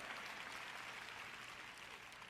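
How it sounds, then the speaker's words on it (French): An audience at a sermon applauds with dense, steady clapping that fills the whole moment at even loudness, sounding like a large crowd in a hall with no voices on top. "Vous applaudissez tous"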